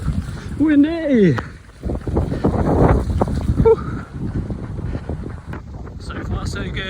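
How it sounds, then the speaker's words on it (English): Blustery wind on a windy UK day buffets the microphone with low rumbling gusts while a person talks over it. "very blowy, windy day here in the UK."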